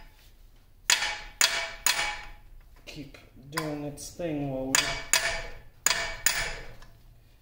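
Several sharp hammer blows strike the apron of a 1950 LeBlond Regal 17-inch lathe during disassembly, spaced irregularly and ringing close and loud, with someone talking between and over them.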